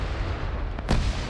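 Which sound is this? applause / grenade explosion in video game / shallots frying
grenade explosion in video game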